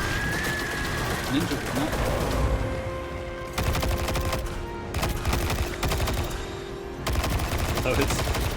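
Rapid bursts of automatic gunfire from a gun in Destiny 2, loud and sustained in several long volleys with brief pauses between, over background game noise while someone talks.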